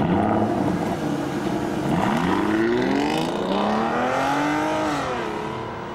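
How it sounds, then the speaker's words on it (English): A 6-litre V12 car engine revs and pulls hard, its pitch climbing and falling through a smooth, sustained rising howl heard loud and alone. "That's the sound of a 6-litre V12."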